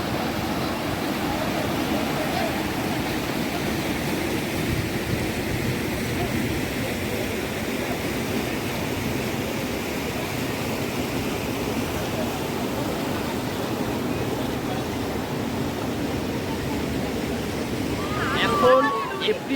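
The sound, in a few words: rushing river water at Dawki, Meghalaya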